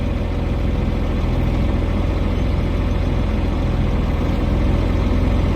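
An old abandoned farm tractor engine runs at a steady idle, a continuous low rumble with a faint regular pulse, close and constant with no talking.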